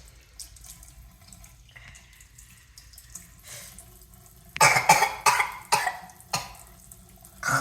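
A child brushing their teeth coughs in short bursts while a tap runs at a sink. Water flows softly for the first few seconds, then several loud coughs and splutters come close together near the end.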